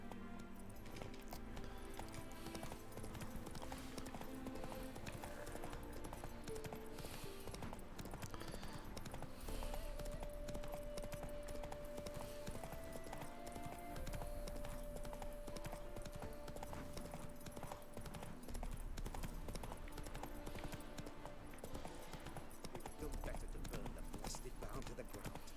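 Roach, Geralt's horse in The Witcher 3, gallops in a rapid, continuous clip-clop of hooves under game music, loud and steady throughout, with a short whinny-like tone partway through.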